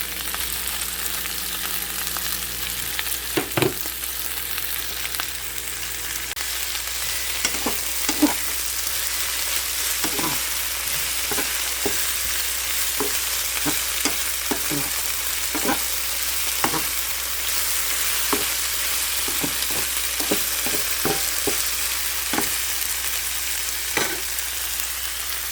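Onion, tomato and chicken fry in a pan with a steady hiss for Peruvian pollo saltado, broken by regular scraping clicks of a utensil as it is stirred.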